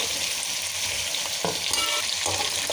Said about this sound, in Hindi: आलू को जो हम इसमें डाल के थोड़ा फ्राई करेंगे।